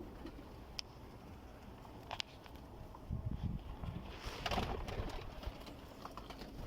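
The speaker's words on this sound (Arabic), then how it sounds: "دائما الفحل يصير يعارق، لأن هذا هسه ينقر ويعارق والطيرة ساكتة" Soft, low cooing of a male pigeon close by, with a few light pecking taps and rustles in a quiet rooftop loft.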